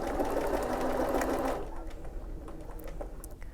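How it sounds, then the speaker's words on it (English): A sewing machine stitches fabric in a fast, loud, continuous whir for about a second and a half, then stops, leaving quiet room tone with faint ticks. "you can put your foot down on the foot pedal and just sew."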